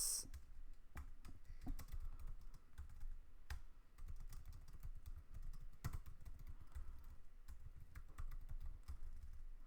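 Fingers type steadily on a computer keyboard for several seconds, with close, crisp key clicks in an irregular rhythm and occasional heavier key strikes, no voices.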